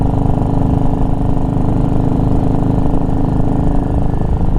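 A repaired BSA Goldstar motorcycle engine runs close by, a steady loud throbbing idle with an even rumbling beat and no change in pace.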